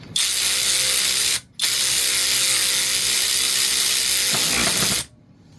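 A SeeSii cordless power ratchet wrench runs loud and close while driving a part with stripped threads back on, in two long whirring bursts split by a short pause, then stops abruptly.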